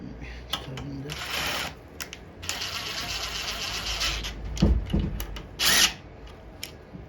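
A bolt on a Lawn Boy 20-inch self-propelled mower carburetor is tightened with a power tool, giving several whirring, ratcheting bursts of varying length close by, with someone talking in between.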